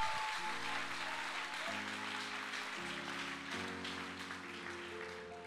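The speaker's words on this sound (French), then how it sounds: "Put your hands together and clap." A church congregation claps together during a bilingual worship service, producing steady, dense rhythmic applause at moderate distance over a held keyboard chord.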